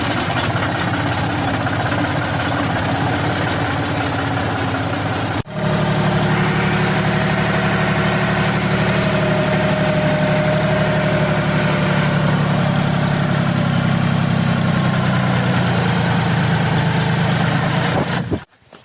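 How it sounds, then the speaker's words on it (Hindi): A tractor engine idles close by at a riverside crossing with a steady, loud diesel rumble, then shifts after a brief break into a deeper, heavier throb that runs on evenly before cutting out abruptly. "बाकी ये जो ट्रैक्टर देख रहे हैं इसमें हम लोग जाने वाले हैं।"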